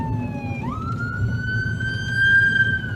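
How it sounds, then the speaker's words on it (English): An ambulance siren wails steadily, its pitch sliding up then holding high over low rumbling road traffic noise; fairly close and loud, with no talking. "especially not when there's an ambulance"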